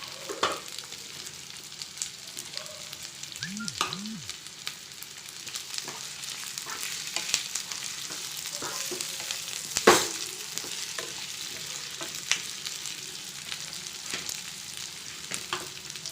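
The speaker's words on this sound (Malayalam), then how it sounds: "നല്ലതുപോലെ നമുക്കിത് മിക്സ് ചെയ്ത് യോജിപ്പിച്ച് കൊടുക്കാം. അതിനുശേഷം നമുക്ക് ബീൻസ് ഇട്ട് കൊടുക്കാം." Vegetables with beans stir-fried in a pan for vegetable curry, a soft steady sizzle with scattered scraping stirs and clinks from a spoon, fairly quiet and close with no talk.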